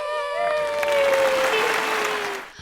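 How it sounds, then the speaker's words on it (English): A small group claps indoors while a drawn-out cheering voice rises over the sound. The clapping is short and ends abruptly. "We can do a clap in the background."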